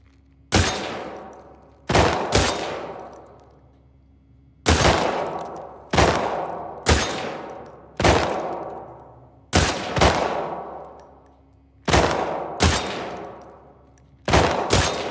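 A gun's magazine is emptied in The Last of Us Part II: about a dozen loud, close single shots fired in uneven pairs and singles, each ringing out with a short echoing tail, with no talk.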